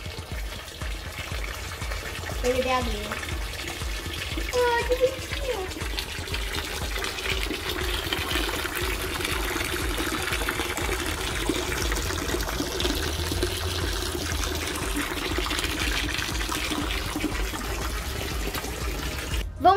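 Water runs steadily into a pool for tortoises on a hot sunny day, a continuous rushing, splashing stream lasting the whole stretch, with brief talking near the start.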